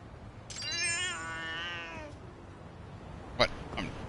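A cat in the video game Lost Judgment lets out one drawn-out, wavering meow, followed by two brief sharp sounds near the end over a quiet game backdrop.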